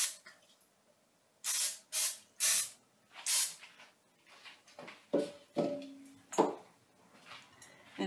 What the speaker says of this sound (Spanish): Ahora le vamos a poner spray a nuestro molde para ya tenerlo preparado.